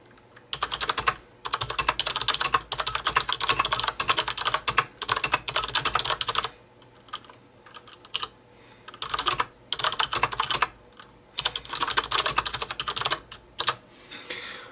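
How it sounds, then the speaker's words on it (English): Rapid typing on a computer keyboard in bursts of fast clicky keystrokes with short pauses between, close and clear with no talking. "let me just type some random stuff"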